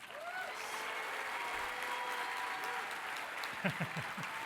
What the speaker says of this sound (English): please give a huge round of applause for your Washingtonian of the Day